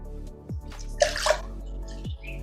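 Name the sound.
pouring water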